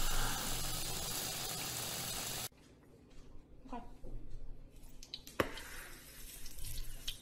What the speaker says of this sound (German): Das Wasser.